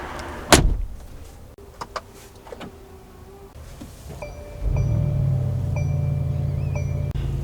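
Someone climbs into the front seat of a lifted 2024 Mercedes G63: a sharp thump near the start, a few clicks and rustles, then a steady low hum with chimes as the cabin electronics wake, with no talk.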